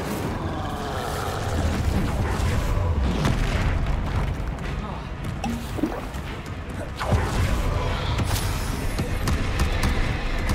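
An Incendio fire spell cast in a Harry Potter video game bursts out as a loud, continuous roar with heavy booming blasts and rumbling, and a voice comes through in the mix.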